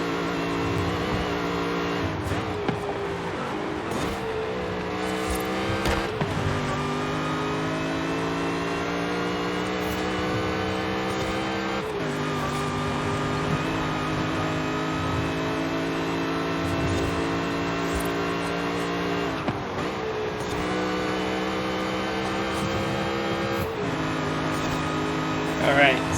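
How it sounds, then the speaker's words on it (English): A 2005 Ford GT in the Forza Horizon 5 racing game runs at sustained high revs with a whining supercharger, the engine note climbing and dropping through repeated gear shifts over about twenty-five seconds. "Let's just hear this beautiful supercharger, or a supercharger sound effect of the 4GT."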